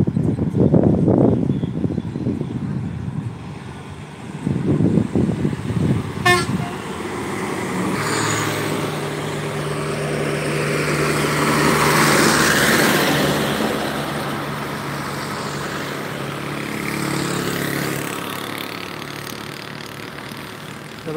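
A Sri Krishna bus on the Chidambaram–Kumbakonam route goes past on the road. Its horn sounds loudly at the start, and the engine rumble then swells and fades as it passes close by.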